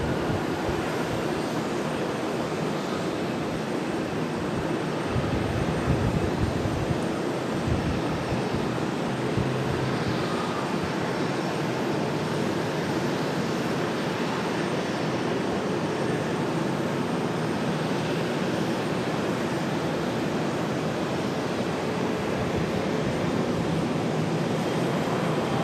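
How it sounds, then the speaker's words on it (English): American Airlines Boeing 737-800 jet departing an airport for Kansas City, a steady broad engine roar holding at an even level throughout, fairly distant and continuous with no voices. "There is also American Airlines 1079 headed out to Kansas City, a 737-800"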